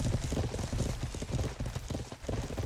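Horse hooves clip-clop in a rapid, dense drumming of many galloping horses during a medieval battle in the game Judgment Hour, loud and close, with faint voices beneath.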